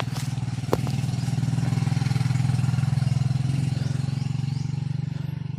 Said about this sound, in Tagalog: Yan mga tol, mayroong mga motor na dumadaan.